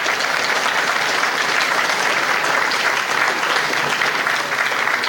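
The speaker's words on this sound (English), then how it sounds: "So Terry Hodis, I want to give you a special round of applause." An audience at a Medal of Honor event gives a sustained round of applause, dense, steady clapping from many hands that holds at an even level throughout without pause.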